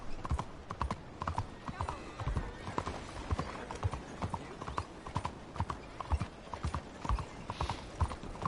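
Horse hooves clip-clop in a steady walking rhythm, close and continuous, while a voice talks over the hoofbeats.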